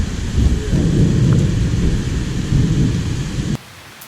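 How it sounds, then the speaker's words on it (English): Pouring rain during a thunderstorm beside a river while fishing from a boat, a loud, dense roar of downpour with deep rumbling, steady for several seconds before cutting off abruptly. "You can't even hardly see the river, the rain. It's pouring all around us."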